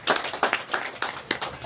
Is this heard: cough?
no